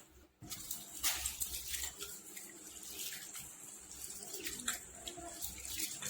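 Basmati rice and dal are rinsed in water, giving soft, close sloshing and splashing with a continuous light patter and occasional brighter splashes.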